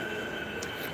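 A train pulls into a station in a steady, dense rumble with a constant high whine, filling the whole second with no pauses.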